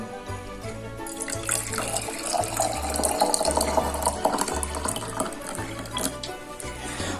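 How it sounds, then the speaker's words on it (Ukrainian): Warm water pours steadily into a small jar for a simple snow experiment, a continuous close splashing stream lasting several seconds with no talking over it. "У баночку з червоним кружечком налию теплу воду."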